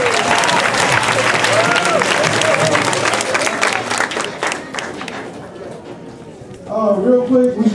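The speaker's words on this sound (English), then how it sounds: "Give a round of applause for the bands." Crowd applause and cheering for marching bands at a university band jamboree, loud and dense at first, thinning out over the last seconds as voices and other noise come through.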